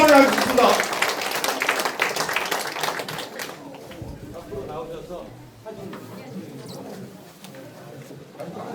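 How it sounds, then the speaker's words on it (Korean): Audience at a committee launch ceremony breaking into big applause, loud at first and then thinning out after a few seconds, as voices and scattered chatter take over through the rest. "큰 박수 부탁드리겠습니다."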